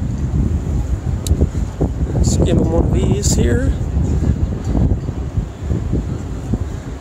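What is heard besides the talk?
strong wind outdoors in Minnesota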